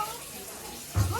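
Water from a tap gushes suddenly near the end while someone washes their feet. The splash is close and fairly loud after a quieter stretch of room noise.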